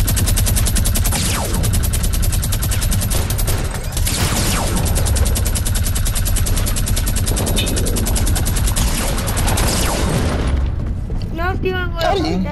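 A minigun in the Fortnite video game fires continuously for about ten seconds, a loud dense rattling barrage with no pauses, dropping away near the end with a few faint trailing noises.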